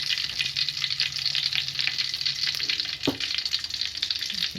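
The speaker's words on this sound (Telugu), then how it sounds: "నూనె వేడెక్కిన తర్వాత ఇందులో కొంచెం నెయ్యిని వేసుకోవాలి" Homemade ghee melting in hot oil, a bright steady sizzle close by with a single brief clink of a utensil near the end.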